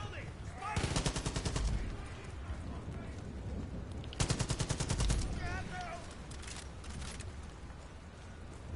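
Bursts of rapid gunfire in Far Cry 5, two loud rattling volleys lasting about a second each, separated by quieter stretches of background battle noise and chirping effects.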